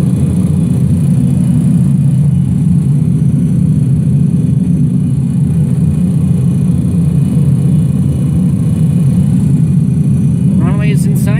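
Pratt & Whitney JT8D engines of a DC-9 in a flight simulator game, a loud, steady low rumble and drone holding constant throughout, close and unbroken.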